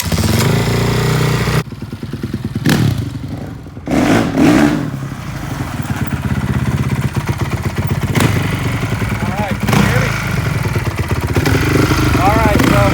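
A Honda CRF450R dirt bike fitted with a Rekluse automatic clutch starts and runs outdoors, its close, loud engine idling with a rapid clatter and several sharp rev blips, while people talk over it.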